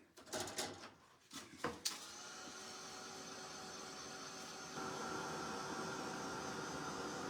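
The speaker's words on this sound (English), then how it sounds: "I might just zap it with a heat gun here." A heat gun blowing to dry paste on an art journal page, a steady close whooshing hiss that starts after a few handling knocks and grows slightly louder partway through.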